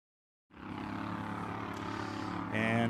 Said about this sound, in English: Suddenly, you've got an automotive-powered hydroplane on the water.